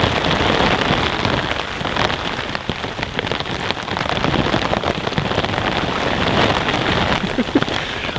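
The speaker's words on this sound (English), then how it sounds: "This is the 4th time it's rained." Heavy rain falls on a riverbank during a chub fishing trip on the Warwickshire Avon, a dense, loud, continuous patter of drops on surfaces with no talking.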